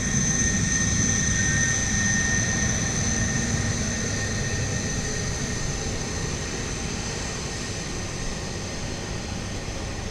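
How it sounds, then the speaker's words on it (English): A Lockheed C-130 military transport departs on runway 12 left at MSP airport, a steady, loud broadband turboprop roar with a sustained high whine, holding constant throughout and easing slightly toward the end. "C-130 departing off the north parallel, runway 12 left"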